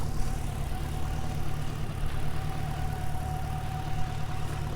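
A government surplus car engine idling steadily with a low, constant rumble, a faint whine and a slight stumble, close by, with no talking.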